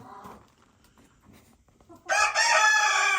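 After a few quiet seconds of faint clucking on a farm, a big rooster crows loudly and close, a long, strained cock-a-doodle-doo.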